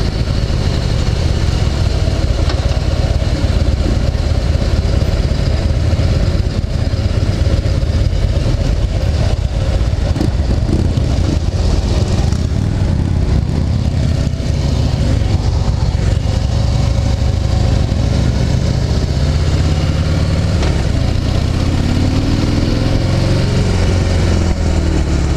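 A Harley-Davidson Heritage Softail motorcycle under way on a test ride gives a loud, continuous engine rumble with rushing road and wind noise, sustained close throughout without talk.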